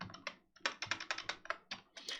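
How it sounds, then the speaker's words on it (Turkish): Fast computer keyboard typing close to the microphone, a quick irregular run of crisp key clicks after a short pause, fairly loud and alone. "Klavye sesi biraz fazla gelebilir."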